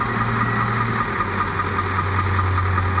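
Engine of a 1997 Caterpillar IT28G wheel loader running at a steady idle, a close, even diesel rumble and hum with no talk.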